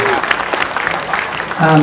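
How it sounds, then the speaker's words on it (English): Audience applause fills a cinema during a film festival Q&A, a steady wash of clapping that runs under a voice speaking over it. "Keep clapping for them"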